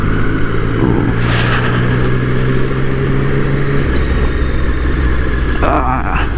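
A 2021 Triumph Street Triple S motorcycle rides through city traffic on the Champs-Élysées, its engine droning loudly and steadily, with a pitch drop midway and brief bursts of passing traffic and wind around it.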